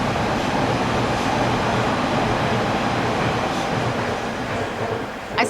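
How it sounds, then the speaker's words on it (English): A train rumbles past, a loud continuous roar of rail noise that holds steady and then eases slightly toward the end, with no talking over it. "I swear some days those trains are louder than other days."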